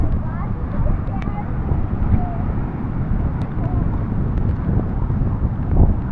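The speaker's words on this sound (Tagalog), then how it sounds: "Lumakas ang ulan, hangin at hampas ng alon." Strong, steady wind from an approaching typhoon roars across the microphone with constant broadband rumble, mixed with rain and waves, continuous and loud throughout, near a beach in Zambales.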